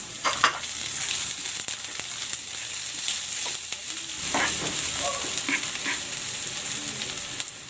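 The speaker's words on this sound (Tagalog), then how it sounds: "Gigisa ko na tong bawang. At ang sibuyas." Garlic and onion sauté in oil in a pan for a Filipino kilawin dish, giving a steady, bright frying hiss with occasional stirring knocks. A dog can be heard faintly in the background.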